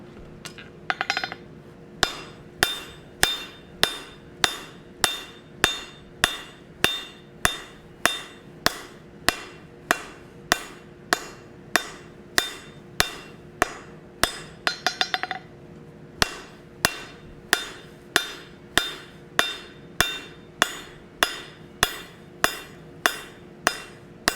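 Hot steel hammered on an anvil while forging a hammer head, with steady, evenly spaced ringing blows repeating throughout, loud and close, with a couple of brief pauses between strikes and no talking.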